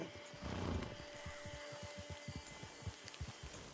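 A horse in a PS4 video game moves with a run of soft, rhythmic hoof clops and some rustling, fairly quiet, with a faint steady tone running beneath.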